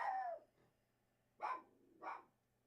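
A dog barks at home, three sharp barks with gaps between them, fairly close and loud, with no talking over them.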